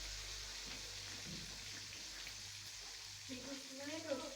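Chili powder sizzling in hot oil in a home kitchen, a steady low hiss of frying with a faint voice murmuring in the background.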